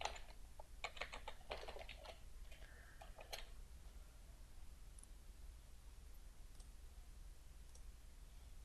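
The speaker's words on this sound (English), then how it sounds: "so I'm going to type that again" A password is typed on a computer keyboard in quick, close clicking bursts during the first few seconds, then fades to faint scattered taps over a steady background hiss.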